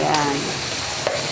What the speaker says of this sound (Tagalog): Kailangan papulahin muna natin yung chicken